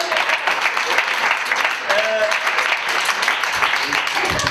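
Audience applause in a hall after an interactive theatre scene at an Alzheimer forum, a steady dense wash of clapping lasting the whole stretch, with a few voices murmuring underneath.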